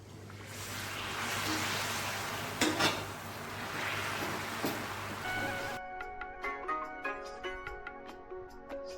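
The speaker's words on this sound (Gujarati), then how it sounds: "તો તેલ પણ મૂક્યું છે કડાઈમાં તો તળી લઈએ" Chorafali papdi frying in hot oil in a kadai, a close, even sizzle with a few stirring scrapes, then the frying cuts off and clinks of utensils follow in quieter room sound.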